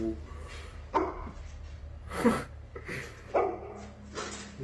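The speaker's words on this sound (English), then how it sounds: "dog begins to whimper before an object falls on its own" A dog whimpers and yips in a scary video clip, several short whining bursts spaced about a second apart with faint background noise.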